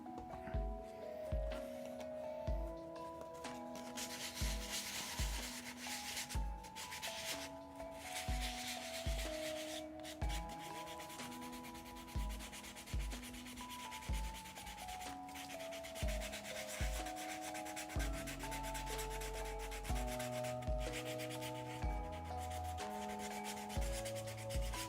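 A Mandalorian costume glove part is wet sanded by hand, giving steady repeated rubbing strokes in a continuous rhythm, close and even throughout, with music underneath and no talking.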